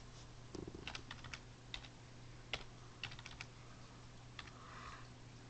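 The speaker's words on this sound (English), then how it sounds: "I'm gonna type it by myself" Keys clatter on a computer keyboard in quick, irregular bursts of close clicks, the typing pausing now and then against a steady low hum, with no voices.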